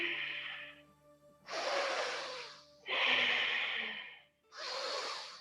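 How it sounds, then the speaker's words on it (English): Deep breathing during a vinyasa yoga practice: three or four long, airy inhales and exhales, close and clear, each lasting about a second with short pauses between, over faint background tones. "Take a deep breath in and lift."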